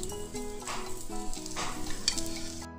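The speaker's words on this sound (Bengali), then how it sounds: "এবার আমি কাটলেটগুলো ভেজে নেব একটা একটা করে" Chicken cutlets sizzle and crackle in hot oil as they fry. The sound is fairly quiet and sits under background music.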